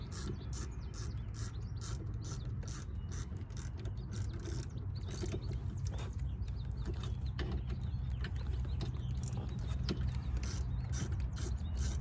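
A hand ratchet tightening bolts on 2021 Ford Bronco rock-slider side steps, steady rapid clicking close up, repeating without pause over a faint outdoor background.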